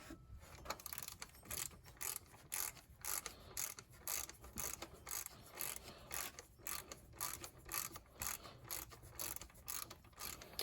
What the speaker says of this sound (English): So you can hear the gearing on this is really nice.